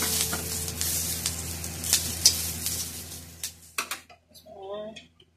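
Tomatoes sizzle loudly in hot oil in a kadai, a bright crackling hiss that fades out, followed by a few stirring scrapes and a short voice near the end.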